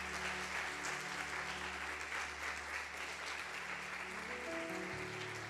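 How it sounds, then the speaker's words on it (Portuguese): A church congregation applauds faintly during a sermon, a soft wash of clapping under steady low sustained tones, with no voices over it. "Você pode aplaudir o Senhor por essa palavra?"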